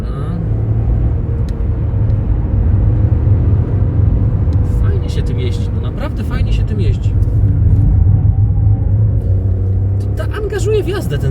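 A Skoda Fabia Monte Carlo with a turbocharged engine accelerates on the road, its steady low drone and rumble filling the cabin throughout with slight rises in pitch.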